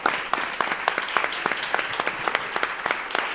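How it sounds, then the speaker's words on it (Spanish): An audience at a panel discussion on migration and rights gives sustained applause, with individual sharp claps standing out rhythmically over a steady wash of clapping at moderate volume. "Les pido un fuertísimo aplauso para nuestros 3 panelistas."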